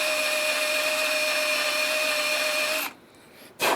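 A drill with a Forstner bit bores into a tractor brake pad, a steady close whirring whine with tonal overtones that cuts off near the end, then a short burst of the motor again.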